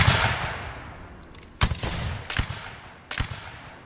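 Musket gunfire in a Napoleonic Wars video game: a loud opening volley decays away, followed by three sharp, separate shots spaced about a second apart, with no talking.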